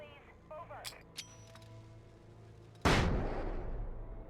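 Flashbang grenade going loud in the Alan Wake video game, a sudden sharp blast that erupts after quieter game sounds and decays in a long, noisy roar.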